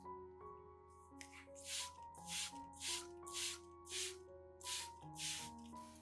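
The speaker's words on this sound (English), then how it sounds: "By misting the diluted banana solution over the leaves, stems, and aerial roots, we provide a gentle yet effective way for the plant to absorb essential elements" Spray bottle misting diluted banana solution onto an orchid's leaves, stems and aerial roots, six or seven short hissing bursts in a steady rhythm, heard close over soft background music.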